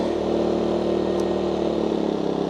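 A Power Smart 2500 watt inverter generator hums steadily at low idle, a constant close, even drone with no change in pitch and no talking.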